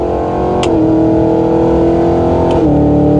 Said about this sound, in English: if you do a pull and they hear the exhaust and the down burbles